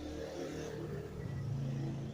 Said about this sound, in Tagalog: Kung pabigla-bigla may mga motor na dumadaan.